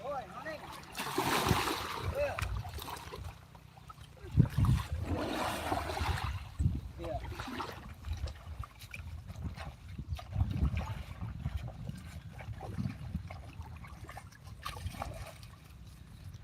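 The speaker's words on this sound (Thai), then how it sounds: "พิปซี่เล่นทีนี้คลื่นมาเลยเลยมีคลื่นเลย" Five elephants bathe in open water while waves wash in and splash around them in uneven surges. Voices speak faintly underneath throughout.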